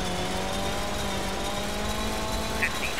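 A rally car engine in Colin McRae Rally, running rough and sounding unhealthy, drones steadily at high revs with sustained tonal whine, loud and continuous throughout.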